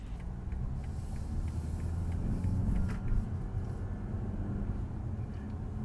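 Steady low road rumble of a car driving, picked up by the built-in microphone of a VIOFO A119 V3 dash cam, a continuous droning hum with faint ticks and no talk.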